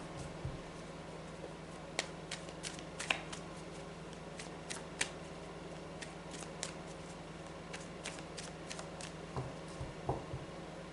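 Tarot cards being shuffled for a reading, a soft continuous riffle with scattered crisp card snaps and taps, close and fairly quiet over a steady low hum.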